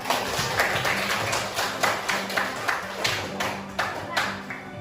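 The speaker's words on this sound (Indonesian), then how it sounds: "Coba tepuk tangan dulu dong." A classroom of vocational accounting students claps together in a series of distinct, roughly evenly spaced claps over several seconds, with light classroom murmur and speech underneath.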